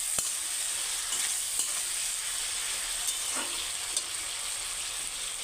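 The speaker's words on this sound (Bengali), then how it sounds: "অল্প নেড়ে চেড়ে অল্প ভাজা ভাজা করে" Beans and potatoes fry in a pan while being stirred, giving a continuous close sizzle with a few soft scraping clicks from the stirring.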